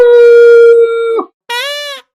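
A voice in a Hindi cartoon imitating a dog, a drawn-out howling tone followed after a short gap by a shorter, higher yelping cry, loud and close with nothing else around it.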